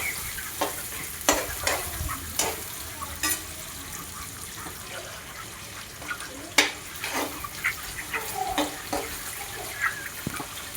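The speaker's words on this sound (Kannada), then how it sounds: "ಸ್ವಲ್ಪ ಎಣ್ಣೆ ಹಾಕ್ಕೊಂಡು ಇದಕ್ಕೆ 2 ಮೀಡಿಯಮ್ ಗಾತ್ರದ ಕಟ್ ಮಾಡಿರುವಂಥ ಈರುಳ್ಳಿಯನ್ನು ಹಾಕ್ಕೊಂಡಿದ್ದೀನಿ." Two medium chopped onions frying in oil in a pan while being stirred, with faint sizzling and intermittent scraping and clinking of a spoon against the pan.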